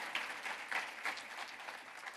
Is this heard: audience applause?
yes